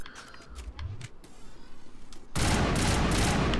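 Burst-fire sniper rifle in Mass Effect Legendary Edition, a few sharp shots early followed by a sudden loud, dense blast of sound that fills the last second.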